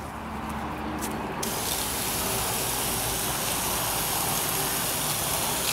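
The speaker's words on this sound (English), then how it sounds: "there is the chlorinated brake cleaner. Cleans better, dries faster, kills bugs." Chlorinated brake cleaner sprays at bees in a loud, steady hiss that starts abruptly and keeps going up close, with no talking.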